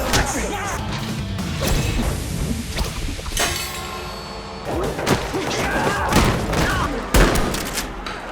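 A mass brawl with smugglers in an action film, full of loud blows, crashes, thuds and swooshes in rapid succession, with scattered voices mixed in.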